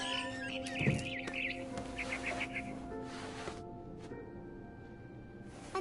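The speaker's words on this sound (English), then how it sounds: "I heard chirping outside my window. It was a barn swallow going back to her nest." A barn swallow chirps outside a window in the video game What Remains of Edith Finch, a run of quick high tweets near the start over a sustained musical drone, followed by quieter scattered calls.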